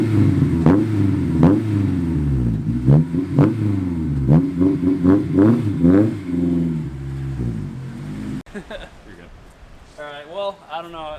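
A Honda S2000 engine revs repeatedly through a muffled exhaust, each blip rising and falling in pitch up close, followed by a brief stretch of voice at the end.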